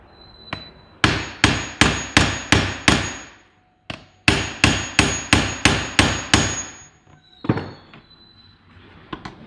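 Hammer blows on a dented Winchester SXP shotgun magazine tube laid on a hard flat surface: two quick runs of six or seven loud, evenly paced metallic strikes with ringing decay, then a few scattered taps.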